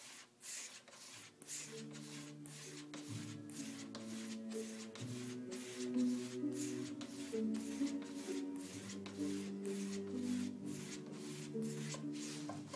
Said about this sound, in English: I'm going to strop the razor 20 times.